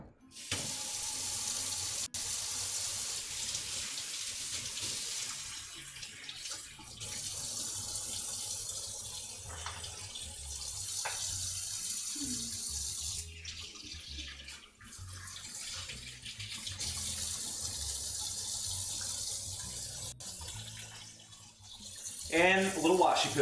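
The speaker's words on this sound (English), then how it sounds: "We're gonna rinse off our salmon just to get rid of that salt and sugar." Tap water runs steadily into a kitchen sink while salmon is rinsed, a continuous splashing rush lasting throughout with brief breaks and faint clatter near the end.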